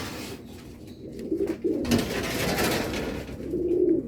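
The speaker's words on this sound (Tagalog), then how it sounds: "medyo tingin ko parang ano, medyo stress yung mga ibon natin" Pigeons coo close by in soft, repeated throaty calls, with brief rustling between them.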